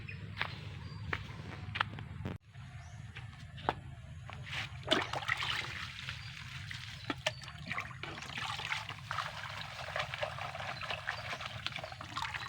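Yellowing rice plant leaves are washed by hand in water, giving soft trickles and splashes over a low background hum, with scattered sharp handling knocks close by and no speech.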